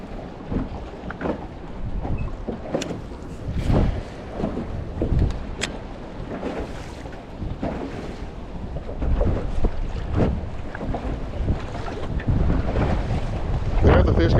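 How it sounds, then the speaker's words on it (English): Strong, gusty wind roars and buffets a fishing boat out on open water during pre-spawn bass fishing, with loud rumbling blasts rising and falling throughout and waves splashing beneath. "So much wind."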